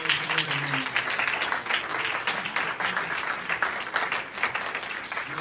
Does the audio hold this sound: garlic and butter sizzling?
no